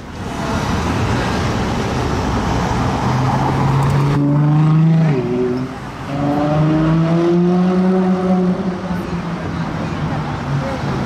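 A Ferrari drives past on a Paris street, its exhaust valves resonating in a rising, sweeping engine note that swells close by, dips, then surges again over busy traffic noise.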